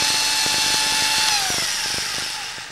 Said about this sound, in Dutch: Ik ben aan het boren